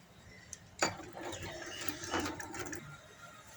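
A sewing machine stitches the side seams of palazzo pants. A sharp click starts a quiet, steady mechanical run that rises and falls briefly before fading out.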